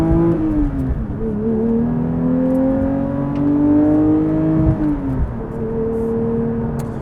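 A Porsche 992 GT3 Touring engine with manual gearbox hums steadily at low revs in normal mode, its pitch rising gradually through the gears with a brief shift dip, heard from inside the cabin.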